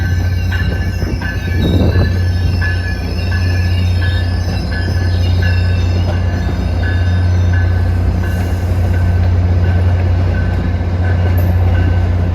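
Commuter train 522 from Worcester passes in the Boston area with a loud, steady low rumble and thrum of railcars, thin metallic wheel squeal riding above it for the full stretch; no voices.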